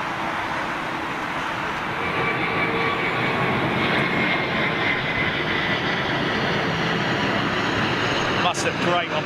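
A large jet airliner on the airfield at London Heathrow gives a loud, continuous engine roar that swells slightly and holds steady, with a voice commenting over it.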